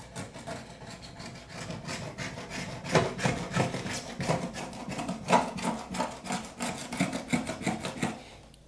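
A flat scraper rasps old silicone sealant off a surface in a steady run of close, rough strokes, rhythmic and gritty, growing a little firmer midway, with no voices.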